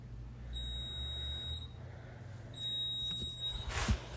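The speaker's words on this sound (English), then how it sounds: "Can I get a discount for this beeping or what?" A smoke detector in a garage sounds two long, high-pitched beeps about two seconds apart, fairly faint over a low background hum.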